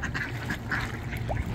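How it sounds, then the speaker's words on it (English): Ducks quacking steadily at feeding time, a cluster of close, loud nasal quacks repeating over outdoor ambience. "A lot of quacking."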